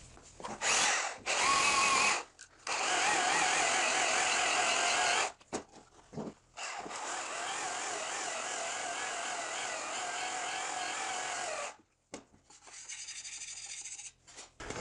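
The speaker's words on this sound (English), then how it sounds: "The mistake to make here is to let the belt sander go forward and tilt it." A belt sander trims the edge of Formica laminate in several long, loud, abrasive grinding runs separated by short pauses, close and with no one talking.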